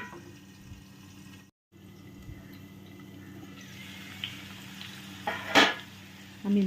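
Capsicum and potato for chilli potato frying in a pan, a soft steady sizzle with a brief gap, then louder crackling and a sharp stirring scrape near the end.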